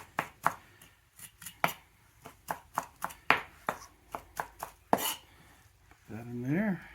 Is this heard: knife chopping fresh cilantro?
yes